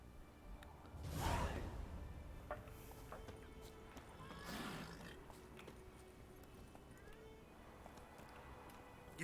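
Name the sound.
horse Roach neighing and trotting in video game The Witcher 3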